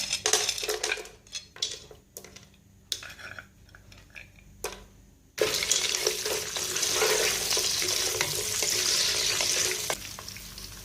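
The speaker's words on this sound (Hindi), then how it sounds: "ड्राई फ्रूट शामिल करके तो हमने 1 से 2 मिनट के लिए इनको फ्राई कर लिया।" Cashews and raisins frying in a pan for sweet zarda rice, a steady sizzle that swells loud after a quieter start, with spoon stirring and utensil clinks throughout.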